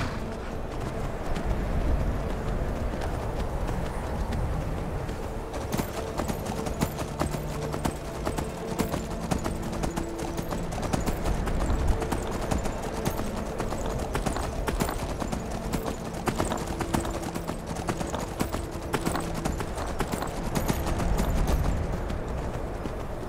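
Galloping horse hooves in the video game Skyrim, a continuous fast rhythmic clip-clop pounding under a dense game soundscape, loud and steady throughout.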